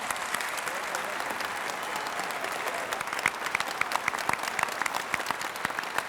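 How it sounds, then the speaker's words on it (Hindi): An audience at a Delhi government event breaks into loud applause, a sustained roar of clapping with sharper individual claps standing out in the second half, close and full. "सबके लिए मैं चाहूंगी जोरदार तालियां हो"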